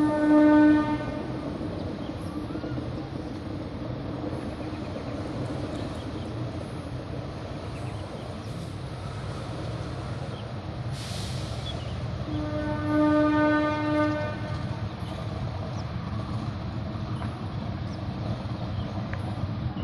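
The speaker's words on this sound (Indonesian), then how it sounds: "di depan saya itu lokomotif 203" A diesel locomotive numbered 203 shunts at Sidotopo depot, and its engine gives a steady heavy rumble. Short tonal horn blasts come at the start and again near the thirteen-second mark, with no talk over it.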